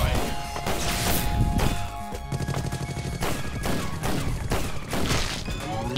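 A turret being destroyed in the video game Awesomenauts, heard as dense bursts of loud blasts, crashes and rapid-fire shots layered over game music, continuous and busy throughout.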